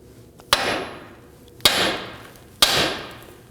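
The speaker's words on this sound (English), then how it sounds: "we're going to go ahead and strike the knuckle right here, and that should release this tie rod end." A hammer strikes a steel steering knuckle three times to release a tie rod end on a 2005-2009 Subaru Legacy 2.5L H4. Each blow is a sharp, close metallic crack followed by a short ringing decay.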